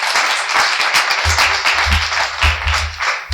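Conference audience applauding a testimony: dense, loud clapping from many hands fills the room continuously, close and sustained throughout.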